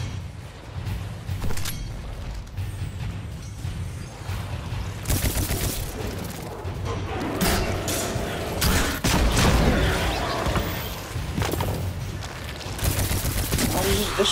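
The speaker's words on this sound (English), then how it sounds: "This auto rifle feels solid." Automatic rifle fire from the video game Destiny 2 during a Void Walker heroic strike: sustained rapid bursts of shots mixed with booms, loud and close throughout.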